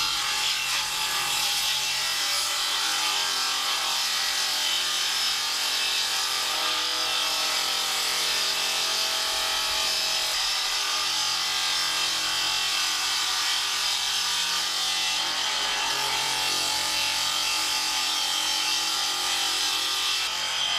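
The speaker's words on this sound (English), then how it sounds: "We're going to get the table saw out. We're going to get these bits trimmed up" A table saw trimming wooden pieces in a home studio build, steady and loud, with a continuous bright whirring cut that holds without pause for about twenty seconds.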